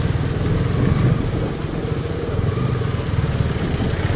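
Motor vehicle approaching on a mountain road after a small landslide, a loud steady engine drone with rough low clatter, holding close and constant throughout.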